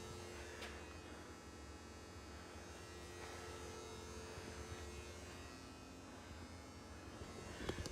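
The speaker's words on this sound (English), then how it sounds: "Sorry you have to listen with the buzzing because it's so dark in here without it." Steady electrical buzz from a work light in a dark shop during a Ford F250 6.7 teardown, a continuous low hum with faint intermittent taps and clanks in the background, no speech.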